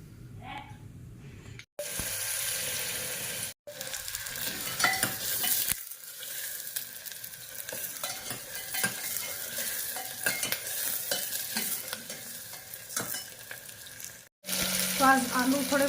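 Steady sizzling of potatoes and onions frying in a hot pan, with occasional stirring scrapes and brief pauses, close and continuous, no talking.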